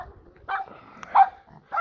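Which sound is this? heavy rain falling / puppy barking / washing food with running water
puppy barking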